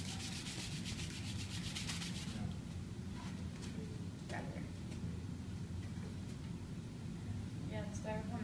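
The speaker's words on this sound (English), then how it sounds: "What about if you rub the styrofoam on the acrylic plate?" Styrofoam rubbed against an acrylic plate makes a steady scratchy rubbing noise, strongest in a burst of quick strokes at the start, then softer under light background noise.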